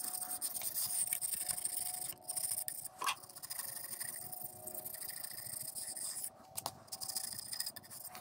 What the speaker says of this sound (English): use a nice brand new razor blade to scrape some of this stuff off, like the rings left behind from the head gaskets